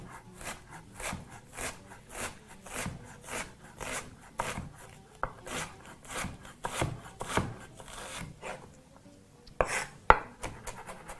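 Rapid, regular knife taps on a cutting board, quiet and close, a steady chopping rhythm with a few sharper knocks near the end.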